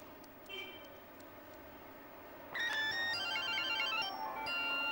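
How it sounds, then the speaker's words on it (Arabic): A mobile phone ringtone starts up partway through and plays a bright, repeating electronic melody close by, over a low background hum. "حلو قوي الرنه دي يا باشا، بعد اذنك تبعتها لي."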